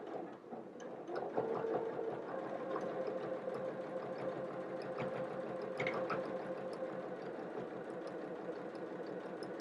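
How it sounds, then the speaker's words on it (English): A sewing machine stitches close along a placket edge with a quiet, steady mechanical whir and faint rapid ticking of the needle, running continuously throughout. "sewing as close to that edge as you can"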